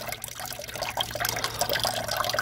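Water trickles and splashes steadily as it drains out of a 1955 Allis Chalmers WD45 tractor, a continuous close gurgling flow with no speech.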